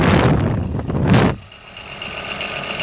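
A corroded, off-balance waste oil heater blower motor runs on a workbench, starting with a loud, rough whirring surge. After about a second it drops to a quieter, steady hum with a thin whine.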